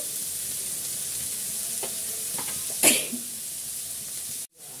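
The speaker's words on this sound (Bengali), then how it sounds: "কুচি করে কেটে রেখেছি, সেই বরবটিটা আমি এখানে তেলের ভিতর দিয়ে দিলাম।" Chopped yardlong beans sizzle steadily in hot oil for restaurant-style fried rice, a close continuous frying hiss broken by a sharp clatter of stirring midway and a brief dropout near the end.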